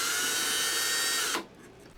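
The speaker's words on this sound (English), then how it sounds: "Next to drill for the mounting screws." A power drill whirs loudly and steadily for over a second drilling mounting-screw holes in a model aircraft, then spins down and stops, leaving a faint hum.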